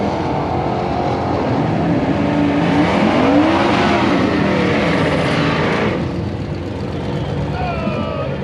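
A naturally aspirated small-block Fox body drag car makes its pass at Rocky Mountain Race Week, a loud sustained engine roar with rising pitch sweeps, fading slightly near the end, with an announcer talking over it.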